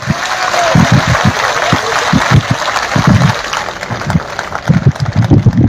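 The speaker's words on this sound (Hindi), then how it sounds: "जोरदार तालियां।" Sustained applause from thousands of teachers and employees gathered at an old-pension protest rally, loud and continuous, with a voice booming intermittently over the clapping.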